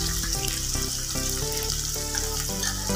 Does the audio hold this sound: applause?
no